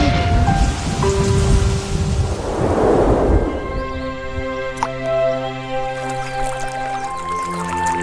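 Heavy cartoon rain hisses steadily through the first half of an Upin & Ipin thunderstorm scene, with a low rumble of thunder swelling mid-clip before the rain thins into a quieter backdrop under soft musical tones.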